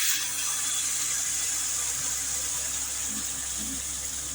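Water pours steadily into a pan already holding ghee and oil, in one continuous, even stream, with no breaks.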